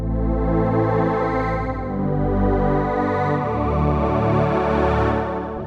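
Omnisphere 3 synth pad drenched in reverb with the frequency shifter switched off, a sustained, layered chordal drone that swells steadily and holds loud and even throughout, with no voices.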